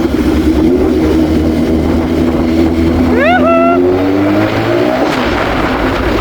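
A loud engine drones steadily under heavy wind rumble, with a brief rising whine of revving partway through, as if heard while riding.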